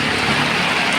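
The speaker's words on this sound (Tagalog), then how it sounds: "ngayon lang ulit lumakas yung ulan" Heavy typhoon rain pours down in a dense, loud, unbroken wash of noise, heard alone for about a second.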